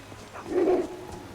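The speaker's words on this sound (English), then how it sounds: "Woof woof." A dog barks once in Skyrim, a short, fairly close single bark over a quiet game background.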